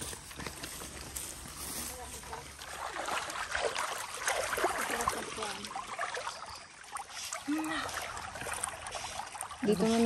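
Water trickles and flows along a riverbank in the countryside, a soft steady babble under people talking nearby.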